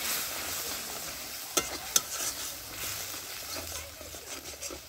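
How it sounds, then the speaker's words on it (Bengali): Spice paste with cumin powder sizzles and is stirred in a pan for a prawn malai curry made without coconut milk, with a soft steady fry and a few sharp spatula scrapes and clicks. "জিরার গুঁড়া, তো ভালো করে মশলাটা আমি কষিয়ে নেব।"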